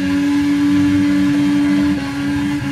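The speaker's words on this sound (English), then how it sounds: "let's see this thing do a burnout" Loud, steady engine drone with a strong whining tone as a car holds a burnout in the Forza 6 video game, sustained revs dipping slightly near the end, no talk.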